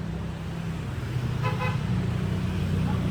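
Street traffic rumbles near a commuter footbridge with an elevator in the Philippines, a steady low roar of vehicles with a brief car horn toot about midway, and no talking heard.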